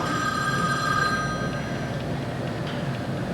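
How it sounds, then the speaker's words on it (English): During a live theater play, a telephone rings on stage with a bright, steady tone that fades out after about a second and a half, leaving quiet room ambience with no voices. "That's the phone, Ken."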